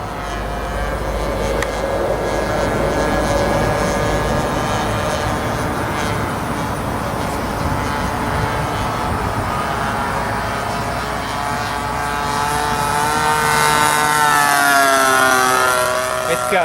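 A 60 size Reactor RC biplane makes a close flyby outdoors, its engine whine steady and loud, then rising and falling in pitch as it sweeps past near the end, with people talking over it.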